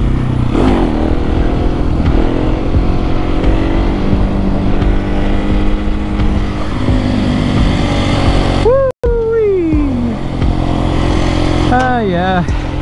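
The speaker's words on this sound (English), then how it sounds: "2 weeks in a row I get to get out on this beautiful bike, do a couple wheel dingers" Motorcycle engine running steadily and loud throughout a ride, with revving pitch sweeps near the end and a brief dropout around the middle.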